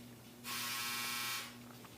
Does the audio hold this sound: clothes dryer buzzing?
yes